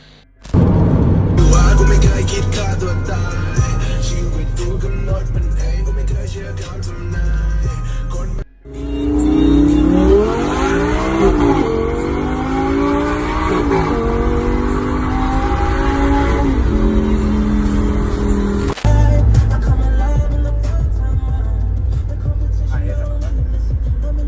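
A car engine roars and revs hard as it accelerates at high speed, loud and close throughout, with a brief cut partway and a shift in pitch as it climbs through the gears.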